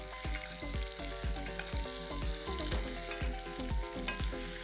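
A veal steak sizzles in browned butter in a hot pan, a steady loud fry broken by regular rhythmic clinks and thumps, likely a spoon or utensil working the pan, and no voices.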